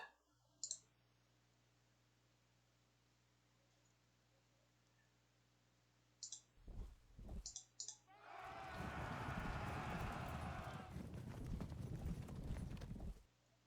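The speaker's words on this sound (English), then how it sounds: "let's charge this light horse" Light horse cavalry charges in the strategy game Sengoku Jidai: after quiet and a few sharp clicks, scattered hoofbeats build into a loud, sustained rumble of many galloping horses.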